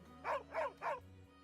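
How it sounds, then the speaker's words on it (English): A dog in the video game AFK Journey gives three quick, evenly spaced barks, clear and fairly close over a quiet background hum. "Now start barking. Whoever sounds like a dog, whoever sounds most like a dog is the real Leos."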